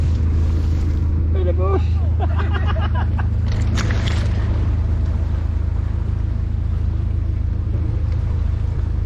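A small boat moves steadily across water near trees, its engine drone constant and low beneath wind and splashing, with a few faint voices and whistle-like calls briefly cutting in early on.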